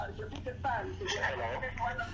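A caller's radio set plays in the background over a phone line during a call-in talk show. It is a muffled, continuous mix of voices and broadcast sound under the talk.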